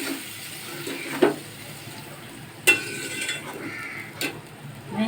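Gram flour batter is stirred in a bowl, soft wet churning with a few sharp clinks of a spoon against the container, close and fairly quiet.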